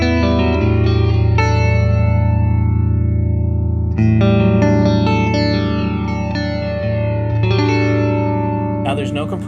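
A 2015 StoneTone Rock Block Strat-style electric guitar in pickup position 4, with tone and volume on 10 and no compressor or EQ, plays bright ringing chords. Three strums are struck and left to sustain, loud and close.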